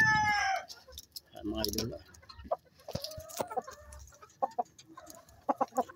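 Double Wing Ban chickens cluck and crow in short, irregular bursts, with someone talking over them now and then.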